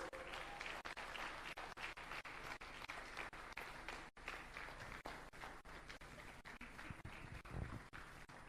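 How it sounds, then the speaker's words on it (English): An audience at the Toastmasters East Africa Conference (TEACON) gives a continuous round of applause, many hands clapping in a steady, fairly distant crackle, with one brief dip before it carries on. "Give her a round of applause."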